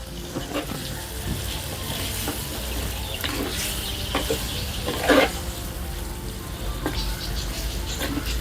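Mutton sukka sizzles and fries in a pan over a wood fire while a spoon stirs it, scraping and pattering close up against a constant crackle, with one brief louder clatter midway.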